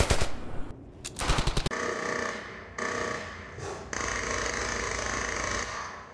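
Bursts of rapid automatic gunfire rattle in a video game, starting with choppy volleys and then running into long sustained firing with short gaps.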